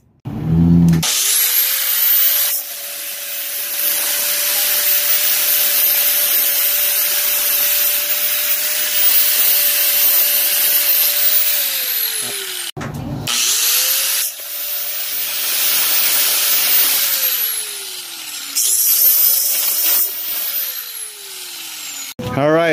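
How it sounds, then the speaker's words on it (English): A power grinder cuts away leftover wood from an HDPE tube mortar rack, whining loudly in two long passes, each starting with a spin-up and ending as the motor winds down. "let me grind that real quick."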